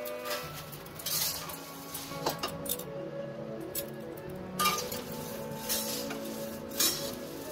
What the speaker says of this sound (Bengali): নিয়ে কড়ার মধ্যে মুড়িটাকে একটু ভাজা করে নেব